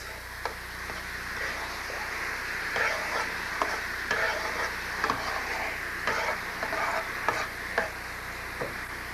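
Garlic stirred around in a hot pan of sweet and sour sauce while cooking shrimp, giving a soft continuous sizzle with repeated close scraping and tapping strokes of the utensil, no talking.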